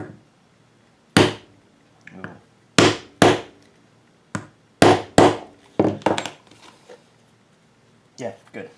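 A hammer setting a rivet in a leather friction sheath belt loop: several sharp, close, loud blows in an irregular sequence of single strikes and quick doubles, with brief pauses between.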